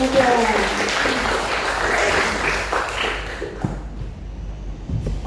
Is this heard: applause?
yes